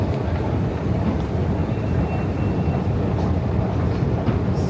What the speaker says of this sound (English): The underground train is always down.